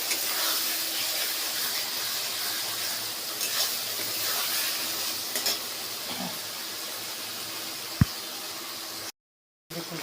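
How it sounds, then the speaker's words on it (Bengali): A paste of ginger, garlic and onion with coriander, cumin, turmeric and Kashmiri chilli powders sautés in a pan, a continuous hissing sizzle with faint stirring and one sharp clink near the end, then a brief cut to silence. "আদা রসুন বাটা, পেঁয়াজ বাটা, ধনে গুঁড়ো, জিরে গুঁড়ো, হলুদ গুঁড়ো, কাশ্মীরি লঙ্কা গুঁড়ো দিয়ে ভালো করে কষে নিচ্ছি"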